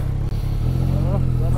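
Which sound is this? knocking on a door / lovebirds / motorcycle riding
motorcycle riding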